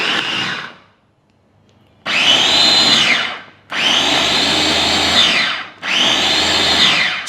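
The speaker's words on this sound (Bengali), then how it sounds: "এখন চিকেনটা ব্লেন্ড করে নিতে হবে, খুব ভালো করে ব্লেন্ড করে নিব।" A kitchen blender grinding boneless chicken for a stew whirs loudly and close in three long bursts after a short first run, with abrupt stops and restarts between them, motor pitch shifting as the meat breaks down.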